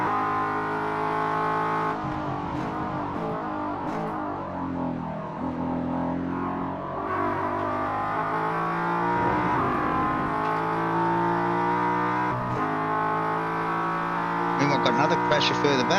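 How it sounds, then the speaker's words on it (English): A race car engine at a Dark Horse Rumble race, droning steadily with the throttle feathered so the revs waver up and down instead of surging, heard close and continuously under commentary. "Here Mick just feathering that throttle, trying to get the power down without"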